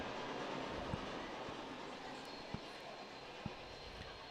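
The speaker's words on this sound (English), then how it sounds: "Sounded like a train went by." A train rolls past outside a junior hockey game in Port Coquitlam, a steady low rumble with a few sharp clacks, faint and distant under arena crowd noise and murmured talk.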